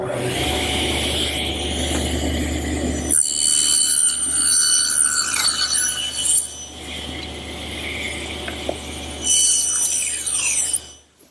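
A table saw with its blade set low cuts rabbets in wooden panels for a blanket chest: a steady, close whine and rasp of the blade biting wood that runs for several seconds before shifting to the saw running on.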